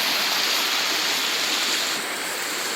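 A forest river rushes past in a steady, loud wash of flowing water, unbroken by voices.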